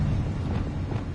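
A Confringo fire spell explodes in Hogwarts Legacy as a short, dense, low rumbling burst, loud and close, lasting about a second.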